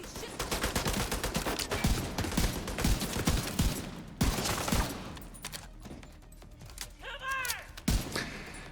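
A slow-firing gun in a video game, shot after shot booming in a loose rhythm over several seconds, loud and close, with a brief chime near the end.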